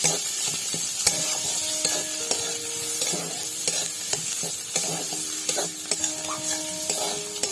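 Leaf bata mixture with turmeric stirred and fried in a pan, a steady close sizzle broken by repeated scraping strokes of a spatula against the metal, with no talking.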